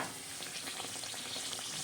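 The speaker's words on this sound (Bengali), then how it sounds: "বাকি কচুরিগুলো একই রকম করে আমি ভেজে নেব" Cauliflower kachori deep-frying in hot oil, a continuous close crackling sizzle with fine popping bubbles and no talk.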